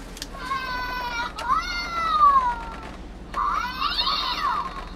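A talking skeleton cat decoration in a luxury RV meows electronically in a few drawn-out, wavering cries, close and moderately loud, separated by short pauses.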